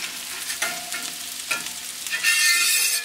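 Quails sizzle in hot fat on a pan or plancha as they are scraped and pushed aside, with a steady frying hiss, scraping clicks, and a louder burst of sizzling near the end.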